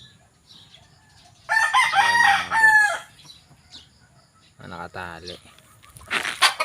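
Tied breeding roosters crowing loudly nearby in a small cramped yard, two long crows with clucking between them, while someone speaks briefly and faintly.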